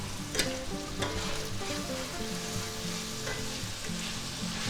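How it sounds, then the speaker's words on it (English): Rice wine sizzles hard in a hot pan of chicken chop suey, a steady loud frying hiss with stirring scrapes and clinks throughout, no talking. "add a little bit of rice wine, put that in there"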